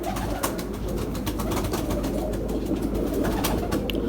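Pigeons of the Ferozpuri breed cooing steadily close to the microphone, their soft repeated calls layered over a busy loft with wing flutters and scattered chirps.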